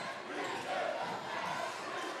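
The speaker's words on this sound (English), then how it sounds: "Crowd getting loud here in Morgan" A basketball arena crowd swells into a loud, sustained roar of cheering voices, a dense wash of noise with a commentator talking over it.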